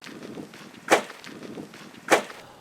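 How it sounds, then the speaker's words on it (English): Two sharp, loud cracks about a second apart as a Toyota Land Cruiser's suspension bottoms out on a small rock on an off-road trail, each a sudden hard impact over a low rumble of driving. "That's the sound of the Land Cruiser's suspension smashing into a fairly small rock"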